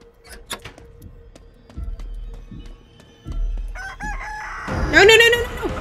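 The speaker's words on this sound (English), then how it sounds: "Oh, oh God, there's the chicken! Hello, chicken!" A rooster crows loudly near the end after scattered clucks and thuds in the Chicken Feet horror video game, with a low rumble beneath and no voices.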